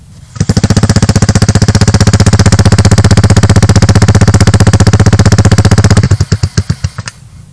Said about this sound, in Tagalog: Okay, sound check natin yung kanyang pipe.